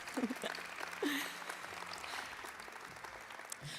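Faint, scattered clapping from a small audience at an award nominations announcement, distant and thin, with a few brief vocal sounds near the start.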